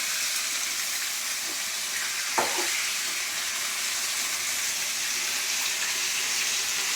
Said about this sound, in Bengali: এদিকে মাছের মাথা ভাজা হচ্ছে